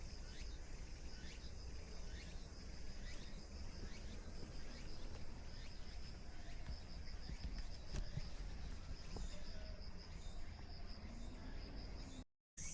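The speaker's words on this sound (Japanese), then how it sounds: "でもまだセミも鳴いています。" Cicadas in Kyoto's Gion district in early September, a steady high buzzing drone with rhythmic pulsing chirps throughout, moderately distant and fairly faint against quiet outdoor ambience.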